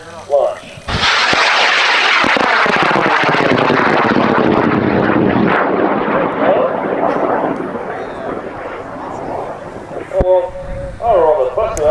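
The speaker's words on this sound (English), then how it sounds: "We're launching Dysentery Gary on an M1250 in 5, 4, 3, 2" A high power rocket on an M1250 motor fires at an outdoor launch event, a sudden loud roaring rush that holds for about nine seconds and slowly fades as it climbs away, with people talking around it.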